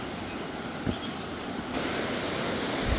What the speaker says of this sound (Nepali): विशाल बाढी आएको छ।